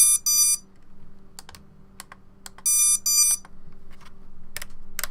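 Short electronic alert beeps from a radio transmitter sound in two quick bursts, separated by soft clicks and taps, near and fairly quiet against a faint steady hum.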